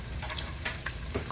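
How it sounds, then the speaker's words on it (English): Croutons fry in a pan, giving a soft, steady sizzle with faint crackles and light stirring noises, close and continuous, with no talking. "Meanwhile, that's frying."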